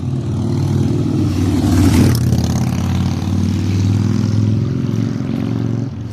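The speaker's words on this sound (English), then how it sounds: "Motorcycle." A motorcycle engine roars loudly in a residential neighborhood street, swelling to a peak as it passes close by, then holding a steady drone with traffic noise before fading slightly.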